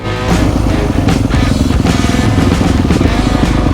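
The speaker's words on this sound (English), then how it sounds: "the throaty bark every time you open the throttle made me giggle" A Yamaha motocross bike's engine barks loudly and continuously as the throttle opens, a close, raw, throaty roar with rapid pulsing that holds steady and dense throughout.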